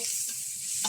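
Garlic sizzles in hot oil in a pan while cooking yellow rice with chicken and vegetables, a bright continuous hiss with a stirring scrape near the end, no voices.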